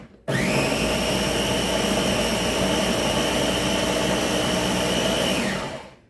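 Blender motor whirring continuously while making homemade gazpacho, a loud steady high-pitched whine that starts abruptly, holds for about five seconds and then winds down, with no talking.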